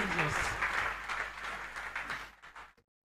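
A church congregation claps together during a lively worship service, a dense rhythmic clapping that runs steadily before cutting off abruptly near the end.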